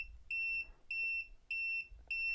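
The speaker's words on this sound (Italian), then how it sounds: "È andata in allarme, errore 8" A 1200W 220V power station with UPS function sounds an error alarm: four loud, steady electronic beeps, each about a third of a second long, evenly spaced with short gaps, alone without voices.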